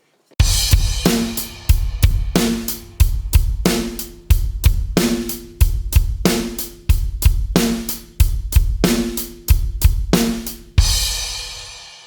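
A loud, steady rock drum beat with punchy double bass-drum hits and crisp snare and cymbal strokes, repeating bar after bar, ending on a crash.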